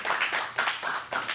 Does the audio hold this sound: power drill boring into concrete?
no